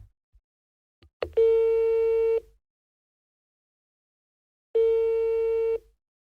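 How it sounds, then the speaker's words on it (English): Two long electronic ringing tones sound on a phone line from a public payphone call, separated by a silent pause, after a couple of faint clicks. "Your number's ringing now."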